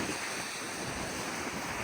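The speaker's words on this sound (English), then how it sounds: "Depending on the tide, this is where it'll come up and splash over this area here." Ocean surf washing over the rocky shoreline at Blowing Rocks in Hobe Sound, Florida, at low tide: a constant hissing wash of water mixed with wind rumble, steady and moderately loud with no voices.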